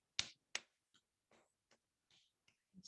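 A group claps hands gently to imitate raindrops, a few soft, separate claps at uneven intervals, the first two sharper, the rest faint and scattered in quiet.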